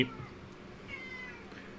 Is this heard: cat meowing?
yes